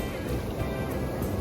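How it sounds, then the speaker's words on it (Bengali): Sea waves washing onto the beach at Puri, a steady broadband wash and rumble of surf close by, continuous through the short stretch with no distinct breaks. "বাবা জল আসছে, বাবা জল আসছে"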